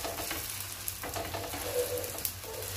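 Paratha frying in oil on a hot pan, a steady close sizzle with soft crackles and faint stirring or scraping touches throughout, no voices.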